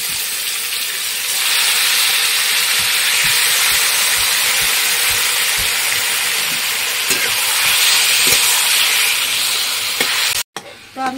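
Taro leaves (kochu shak) dropped into a hot pan set up a loud, steady sizzle and hiss with faint stirring scrapes, continuing for about ten seconds before a brief cut.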